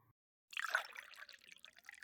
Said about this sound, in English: let me pour you a glass of water.